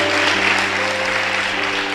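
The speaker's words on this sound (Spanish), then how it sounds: "¿Cuánto le pueden dar un fuerte aplauso al Rey de los cielos?" A church congregation applauds in a steady, dense wash of clapping, with a sustained organ-like tone humming underneath.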